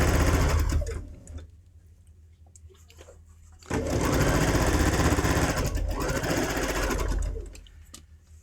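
A sewing machine sews a quilt block seam, fabric fed through without pulling. It whirs loud and close in two bursts of rapid stitching, with a quieter gap between them, and no voices.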